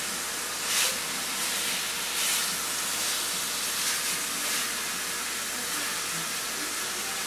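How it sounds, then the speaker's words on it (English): Butcher-sliced meat sears in a hot pan for a holiday dinner, giving a steady, even sizzling hiss with a few slightly louder pops of spatter and no talking. "You don't want it to burn, you just want it to brown and sear up real good."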